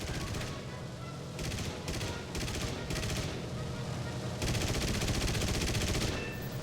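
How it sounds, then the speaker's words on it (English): Aircraft machine guns fire in rapid bursts of varying length over a steady engine drone in the War Thunder combat game, with loud, dense rattling volleys that grow longer toward the end. "Use the fire button to shoot at hostile aircraft."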